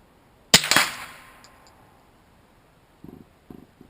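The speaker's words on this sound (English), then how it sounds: "First shot with the stinger." A Ruger 22/45 pistol fires a single CCI Stinger .22 round, giving one sharp, loud crack with a short decaying tail and no talking, followed by a few faint small clicks.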